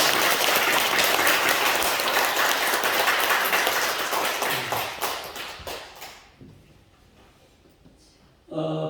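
A church congregation at a Sunday worship service claps loudly together in dense applause that gradually thins out and fades to near quiet, followed by a brief return of sound at the end.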